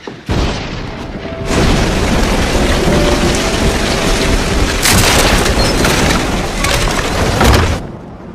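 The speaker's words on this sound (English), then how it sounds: "The thunder startled me." Thunder rumbles in a loud, sustained roll during a storm with rain, the rumbling swelling and continuing for several seconds without voices.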